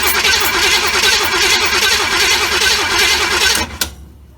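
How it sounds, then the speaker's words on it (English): A small block Chevy V8 in a 1936 Chevy coupe cranks over without starting, a loud rhythmic churning of the starter for about three and a half seconds that then stops abruptly with a clunk. "So if I press that, the motor should turn over."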